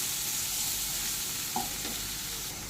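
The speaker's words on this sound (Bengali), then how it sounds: "পেঁয়াজটাকে একটু ভেজে নেব।" A medium chopped onion frying in oil with whole cumin, a dense, steady sizzle close by, broken by a brief scrape of stirring, with no voices.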